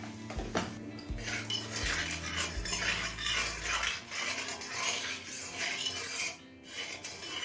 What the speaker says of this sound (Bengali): নুন, হলুদ আর লঙ্কাটা তেলের সাথে মিশিয়ে নিলাম।